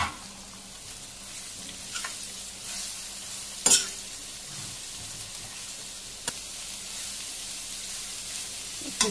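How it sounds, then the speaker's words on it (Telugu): Shredded cabbage with turmeric sizzles steadily in a pan over a low flame, with a spoon stirring through it and a sharp clack against the pan at one point. "ఇట్లా కలుపుతూ ఫ్రై చేసుకుంటాం"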